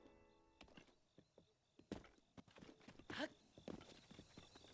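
A horse in the Zelda: Breath of the Wild video game clops along with irregular hoof thuds and knocks, faint game sounds around them and no talk.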